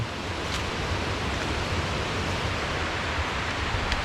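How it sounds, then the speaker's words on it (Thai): Waterfall on the second tier of a forest nature trail, a steady broadband rush of falling water close by, continuous and unbroken with no voices. "น้ำตกชั้นที่สอง"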